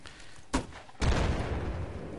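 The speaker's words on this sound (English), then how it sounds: "Oh, I was going to show you with the grenade." Grenade and gunfire in a video game: a sharp burst, then a heavy booming blast that rolls on with dense rumbling fire, loud and without talk.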